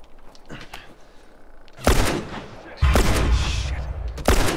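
Gunshots from The Last of Us, a survival-action game, ring out as a few loud sharp cracks with roomy tails, separated by quieter stretches. A voice talks faintly in the background.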